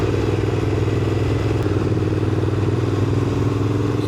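Motorcycle engine running steadily and close throughout, a continuous throaty drone with slight shifts in pitch as the rider changes down a gear while slowing on the road.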